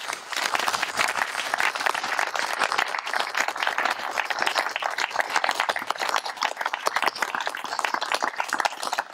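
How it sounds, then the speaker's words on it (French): Sustained audience applause at a Brussels prayer gathering in tribute to a late leader, dense and steady throughout, with many hands clapping at once and no talk over it. "je voudrais qu'on puisse soutenir la mémoire de l'homme en applaudissant"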